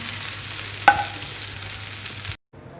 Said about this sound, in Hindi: ज़बरदस्त का तड़का लग चुका है।